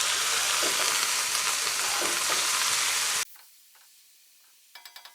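Spinach with garlic sizzles loudly in a hot pan while being stirred for about three seconds, then the sound cuts to near quiet with a few faint taps at the end.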